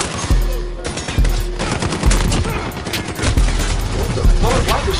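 Rapid gunfire rattles in Call of Duty Modern Warfare, on the Shoothouse or Shipment maps, as a dense, loud stream of automatic shots with short pauses between bursts, under a player's voice.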